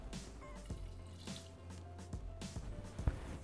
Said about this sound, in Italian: Dal foro del coperchio versiamo il vino.